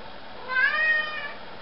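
A single cat meow, a clear drawn-out tonal call in the middle of the clip, heard close over a steady background hiss with no talk.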